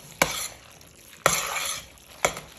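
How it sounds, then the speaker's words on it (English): Tuna fish casserole mixture being stirred in a bowl: three sharp, separate scraping strokes over a quiet background, close and fairly loud, with no voices. "I'm gonna give it a big mix."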